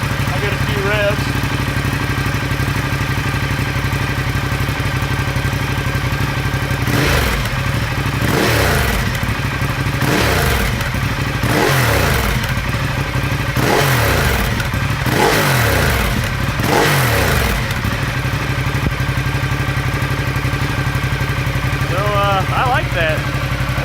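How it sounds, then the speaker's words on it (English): Close by, a Ducati Diavel fitted with a Remus slip-on exhaust idles, then gives a run of quick throttle blips up to about 6,000 rpm before settling back to a rumbling idle. "That was revving to about 6 grand."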